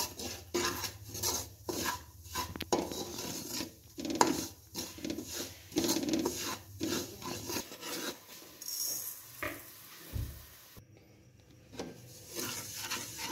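Semolina roasting in a pan for pumpkin halwa, stirred continuously: rhythmic scraping and rasping strokes of a spoon against the pan, close and steady, easing off toward the end.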